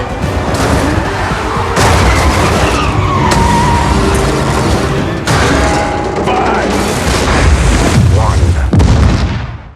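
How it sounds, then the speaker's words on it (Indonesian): Loud cinematic chaos from a Fast & Furious film, with a giant bomb exploding: heavy booms and explosive blasts, roaring engines and skidding, bursts of impact following one another in quick succession. "Akibat dari meledaknya bom raksasa itu"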